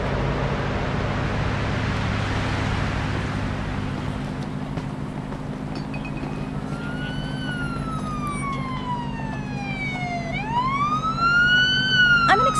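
In a police simulator video game, a wailing ambulance siren rises and falls over a steady low engine drone, growing louder toward the end as if approaching.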